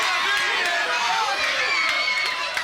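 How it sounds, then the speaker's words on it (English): Crowd noise at a live independent wrestling show in Bushnell, a continuous roar of shouting and chatter from fans filling the arena, steady and fairly loud throughout. "And hearing it from the crowd here in Bushnell"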